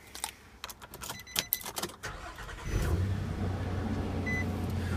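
A Nissan Frontier Pro-4X pickup is started after a series of jangling keys and clicks, its engine catching with a sharp burst and then settling into a steady, close idle rumble.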